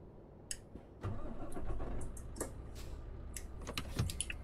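A truck engine in Euro Truck Simulator 2 cranks and catches at about one second, then settles into a low steady idle, with faint clicks and taps over it.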